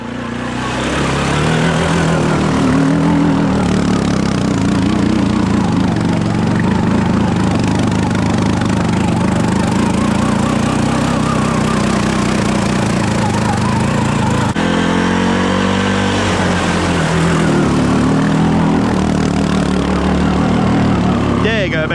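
A Honda 6x6 four-wheeler stuck in the ground revs hard, a loud, continuous engine drone that surges and falls in pitch throughout.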